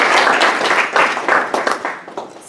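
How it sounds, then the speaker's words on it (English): A seated audience at an evening housing and education panel gives a round of applause, dense clapping that starts full and thins out over a couple of seconds. "So let's give our friends a round of applause."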